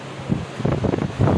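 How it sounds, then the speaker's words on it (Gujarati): A cool breeze gusts across the microphone at home, short bursts of rushing wind buffeting in rising pulses with no talking. "પવન તો સારો આવો, ઠંડો ઠંડો"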